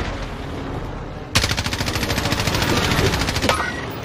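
An airstrike run in Call of Duty Warzone: after a quiet ambient lead-in, a loud sustained rattle of rapid-fire shots erupts and continues for about two seconds before cutting off.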